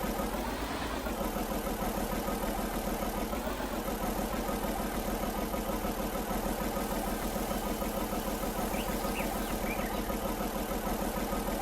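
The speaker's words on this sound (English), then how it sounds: "I need gas for this tractor." Tractor engine idling in Farming Simulator 19, a steady loud mechanical drone with a constant low throb and no voices.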